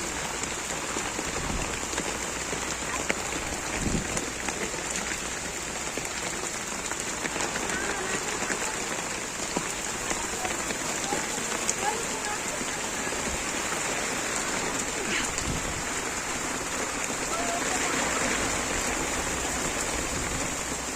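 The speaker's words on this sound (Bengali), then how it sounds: "নদী প্রচণ্ড উত্তাল যেমন বাতাস তেমন বৃষ্টি" Heavy rain with wind pours down by a river embankment at Kamrangirchar, a dense, continuous roar of drops drumming on surfaces, loud and close throughout.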